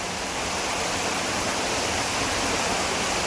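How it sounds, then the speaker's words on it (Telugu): Heavy rain pours down in a dense, unbroken hiss during flooding, steady and enveloping with no voices or other distinct sounds. "ఘోరం వర్షం వస్తుంది, బాగా వర్షం వస్తుంది."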